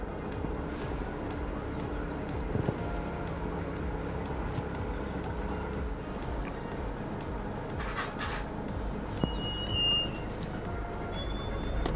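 A car rolls slowly into a parking spot at Amegundi Resort amid lush green surroundings, its steady engine rumble carrying on evenly throughout, with a few faint clicks and a brief high tone near the end.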